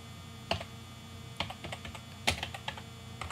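Keywords are typed on a computer keyboard, producing a quick run of close, crisp key clicks with a few sharper taps standing out.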